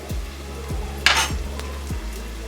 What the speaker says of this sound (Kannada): ಈಗ ಬೆಳ್ಳುಳ್ಳಿ ಕೂಡ ಫ್ರೈ ಆಗಿದೆ